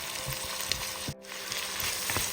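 Potatoes and carrots sizzle steadily in a hot pan, a continuous crackling fry with a brief dip in the middle.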